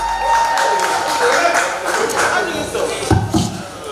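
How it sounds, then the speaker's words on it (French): Audience applause at a black-and-white gala soirée, a dense burst of clapping with some thumps and crowd noise filling the whole stretch. "Put your hands together for Honoré Fomyoko"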